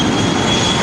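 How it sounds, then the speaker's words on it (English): An Alaska Boeing 737-700 jet rolls for takeoff on a runway at LAX, a loud continuous engine roar with a steady high whine running through it, close and alone without voices. "I also have that Alaska 737-700 heading up here for a takeoff to SFO"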